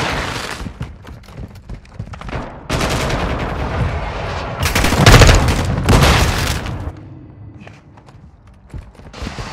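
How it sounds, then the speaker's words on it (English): Hostile mortar strikes pound the area in Call of Duty: Modern Warfare II, heavy booming blasts and rumbling gunfire building to a loud, dense barrage midway before fading to scattered bangs. "Hostile mortar strike in the area."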